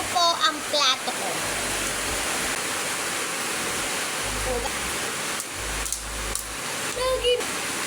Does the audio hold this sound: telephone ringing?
no